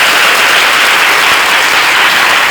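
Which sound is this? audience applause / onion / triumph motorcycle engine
audience applause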